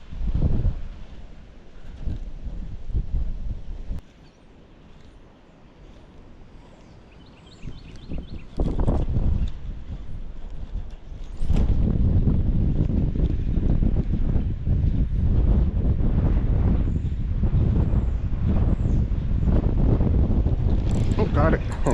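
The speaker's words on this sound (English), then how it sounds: "This wind is total buzzkill though" Strong wind buffeting the microphone outdoors during white bass fishing before a storm, a loud continuous low rumble that swells and gusts throughout, with people talking faintly beneath it.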